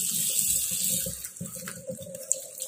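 Water runs from a kitchen tap as boiled pork is washed in a sink, a steady close splashing and hissing stream that grows patchier toward the end, with no talk.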